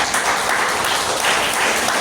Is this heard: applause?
yes